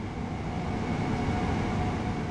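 A train on the East Coastway toward Eastbourne in Train Sim World rumbles steadily, a close continuous low roar of wheels and motors with an even hum and no breaks.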